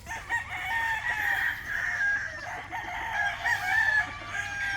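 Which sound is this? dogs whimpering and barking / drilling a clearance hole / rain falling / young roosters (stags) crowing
young roosters (stags) crowing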